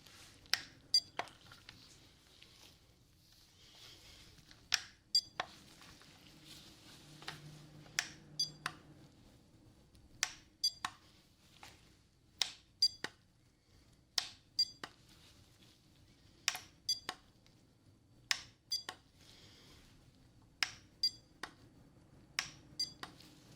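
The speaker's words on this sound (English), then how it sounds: "I'm gonna make a beep sound in your ear" Short, sharp hearing-test beep tones repeat in the ear at uneven intervals over a quiet background, each one brief and crisp.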